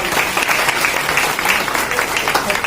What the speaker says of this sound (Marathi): सर्वांनी जोरदार टाळ्या